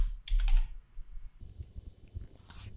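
Keyboard shortcut keys pressed on a computer keyboard during Excel use, a quick burst of near clicks at the start followed by softer scattered taps and a final cluster of keystrokes, with no talking.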